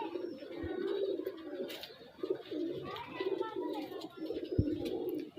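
Teddy pigeons coo softly and repeatedly, several birds giving low rolling calls close by over faint background noise.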